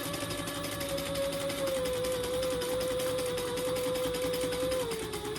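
A sewing machine stitching a quarter-inch seam on a lined boxy bag, a steady rapid whirring buzz with a sustained motor tone running continuously, close and moderately loud.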